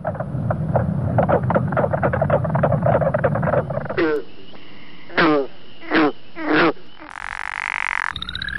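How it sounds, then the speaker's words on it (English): Frogs beside an estuary lake in the Bras d'Or Lake Biosphere Reserve croak in a dense chorus of rapid pulses, close and loud, before the chorus cuts off and a voice speaks briefly among other sounds. "An animal connected to and dependent on these places is the frog, or scolch in Mi'kmaq."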